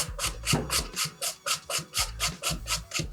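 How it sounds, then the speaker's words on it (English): A sweet potato is rubbed over a hand grater in quick, even strokes, about a dozen rasping scrapes in steady rhythm, close and clear with no talk. "I'm gonna just grate it with the grater."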